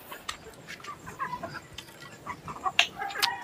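Chickens on a farm cluck in short, bright bursts over a faint, busy background, with a few sharper calls standing out near the end.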